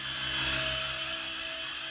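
A high, steady electric motor whine of a small T2M Spark MX RC helicopter, running continuously at a constant pitch close by.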